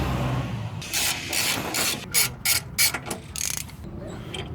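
A ratchet wrench clicks in quick bursts of short strokes, close up, removing sway bar bolts on a Mercedes ML55, with pauses between strokes and a low mechanical rumble underneath.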